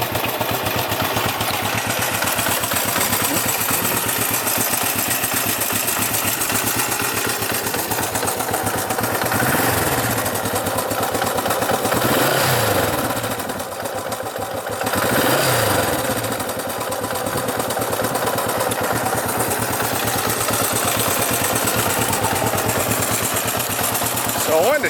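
A 1967 Honda CB450 "Black Bomber" motorcycle engine idling after a cold start, a loud, steady mechanical chug that holds for the whole stretch with slight wavering, close by.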